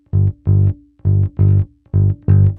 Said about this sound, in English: we have what I call a ground bass line, which is going to be the foundation of this video